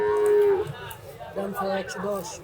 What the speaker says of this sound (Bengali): চমৎকার একটি গরু